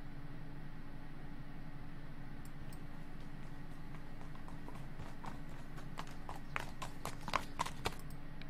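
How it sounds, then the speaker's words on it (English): Horse hooves clip-clop as a sound effect for a Dungeons & Dragons tabletop session, faint and sparse at first, then louder, sharper knocks cluster near the end over a steady low hum. "There's horse hoof sounds."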